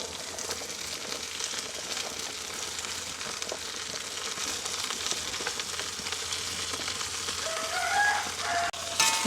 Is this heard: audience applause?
no